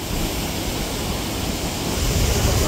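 A swollen mountain stream on a rainy, dangerous road from Kinnaur Kailash to Reckong Peo roars with loud, dense, unbroken rushing water that grows slightly heavier toward the end, with no one talking.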